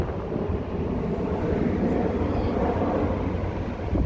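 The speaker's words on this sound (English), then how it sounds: "as soon as this plane flies over," A low, steady roar of an airplane passing overhead, rumbling continuously at a moderate distance.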